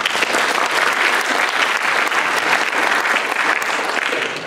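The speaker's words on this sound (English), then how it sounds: "give him a warm round of applause." Steady, dense applause from a conference audience after a lightning talk at PyCon PL 2016, sustained and even for the whole stretch with no voices over it.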